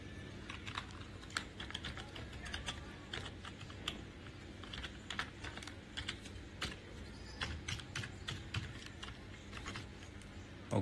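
Password keyed on a computer keyboard during online store setup, a quiet run of rapid irregular key taps, close and clear with no talking.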